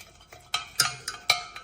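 A spoon stirs tea leaves and sugar in a saucepan, giving a few sharp metallic scrapes and clinks at an irregular pace, close and fairly quiet, with no speech.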